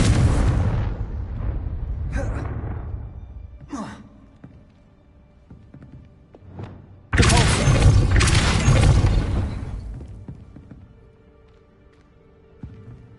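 A Confringo fire spell in Hogwarts Legacy bursts twice as deep booming blasts, one near the start and a louder one midway, with a softer whooshing tail between them and faint game sounds after.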